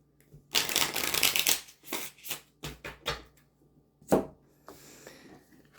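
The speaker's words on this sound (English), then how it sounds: "I'll give these a shuffle" A deck of tarot cards is shuffled in rapid rustling, riffling bursts, close up and fairly quiet, with brief pauses between runs and no speech.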